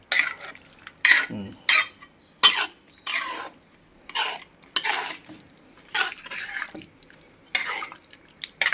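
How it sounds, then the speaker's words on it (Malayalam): A spoon stirs Kerala-style chicken stew in a pot, with intermittent clanks and scrapes against the metal in separate strokes, close and moderately loud. "ഒന്നുകൂടെ അടി തട്ടി ഒന്നുകൂടെ ഇളക്കിക്ക്"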